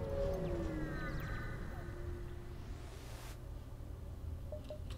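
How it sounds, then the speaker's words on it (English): A spaceship alarm siren wails in the FTL video game under the Arsenal+ mod, its rising and falling tones sweeping over a steady low hum, with no talk. "Be glad to get out of this zone because of the siren."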